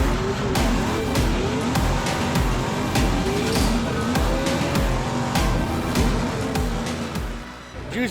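A Formula Drift race car engine runs loud and close, with a continuous rough, pulsing roar that stays strong throughout.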